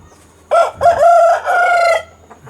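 A rooster crows loudly and close by in a single drawn-out call, with a short cluck before it and quiet farmyard background afterward.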